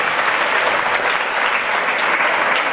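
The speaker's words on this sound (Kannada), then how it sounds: "ಅವರಿಗೆಲ್ಲರಿಗೂ ಒಂದು ಜೋರಾಗಿ ಚಪ್ಪಾಳೆ ತಾವೆಲ್ಲರೂ ತಟ್ಟಬೇಕು." Loud, continuous applause from an audience at a Kannada Rajyotsava celebration held by a Kalyana Karnataka protection forum in Kalaburagi, a dense steady clapping with no talk, filling the whole stretch.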